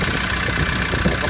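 Car engine idling steadily after a battery replacement, a close continuous rumble with a slight uneven knock and no talk over it.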